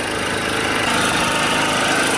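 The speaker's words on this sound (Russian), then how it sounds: "Резная пила Makita." A Makita 2-kilowatt saw runs steadily at a high, buzzing pitch, loud and close, with no pauses for the whole stretch.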